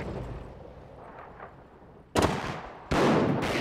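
Gunfire in the World War II strategy game Company of Heroes, quiet rumble giving way to two loud, dense bursts of firing and explosions, close and without speech.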